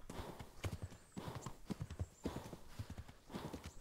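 Horse hooves clip-clop steadily in Kingdom Come: Deliverance, with heavy rhythmic breathing from the horse riding along beneath them, fairly close and moderately loud, with no talk over it.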